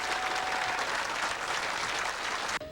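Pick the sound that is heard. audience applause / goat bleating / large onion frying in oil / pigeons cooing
audience applause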